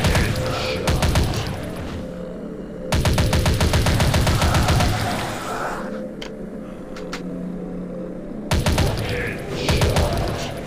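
Rapid gunfire in the zombie shooter game Dead Target, bursts of automatic fire repeating in loud rhythmic volleys with short pauses between them, close and dominant over a low rumbling background.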